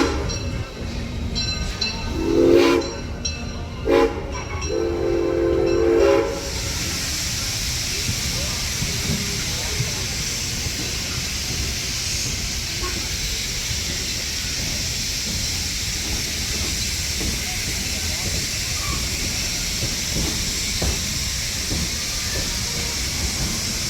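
Hissing steam and a rumbling steam locomotive, Granite Rock No. 10, arriving at a station in Sacramento, with a few loud metallic bursts early on before settling into a steady broad hiss.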